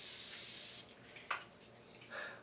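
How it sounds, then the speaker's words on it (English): Mineral water mist sprayed onto the face during a makeup routine: a soft, steady hiss of fine spray that holds, then fades into quieter, broken sputters. "I usually spray this on my face."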